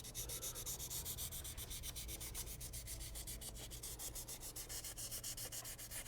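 Steady back-and-forth scuffing of fine 800-grit sandpaper over the back of a wooden guitar neck, long even passes rasping continuously and close up throughout.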